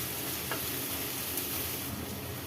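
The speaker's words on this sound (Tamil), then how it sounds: "இப்போ பொடியா நறுக்குன அவரைக்காவையும் போட்டுக்கலாம். இப்போ இதையும் சேர்த்து நல்லா வதக்கிக்கலாம்." Finely chopped broad beans (avarakkai) sauté in a pan with other ingredients, a continuous close sizzle with light stirring scrapes and no talk.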